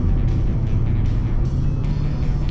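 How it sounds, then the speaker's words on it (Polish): A 2013 VW Passat B7 1.4 TSI with DSG gearbox drones steadily from inside the vehicle, a low continuous engine rumble with road noise and no talking. "i ten samochód sobie leci"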